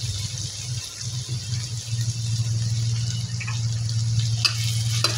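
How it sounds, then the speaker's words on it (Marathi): Cumin and spices frying in hot oil in a pan while cooking zunka, a steady soft sizzle with occasional stirring scrapes and light clinks. "आणि तेही छान तेलामध्ये परतून घ्यायचं आहे, एकजीव होईपर्यंत"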